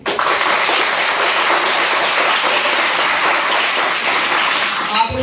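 A seminar audience claps in dense, steady applause for about five seconds, loud and continuous before it stops abruptly.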